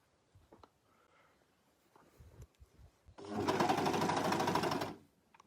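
A serger overlock sewing machine stitches a seam on a short, a close, loud mechanical whirring burst of about two seconds after some quiet handling noises and soft breaths.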